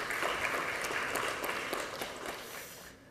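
Audience clapping steadily for a speaker at a Korean lecture event, a dense patter of many hands that holds strong and then thins out toward the end.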